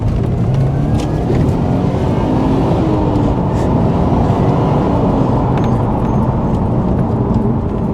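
Engine and exhaust of a Subaru Impreza STI Spec C hatchback (GRB), a loud, steady low drone held at close range for the whole stretch without pause.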